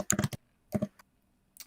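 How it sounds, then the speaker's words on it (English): Quick bursts of close computer keyboard typing, a rapid cluster of clicks, a short second flurry, then a lone keystroke and a faint final tap, with silence between them. "who's typing?"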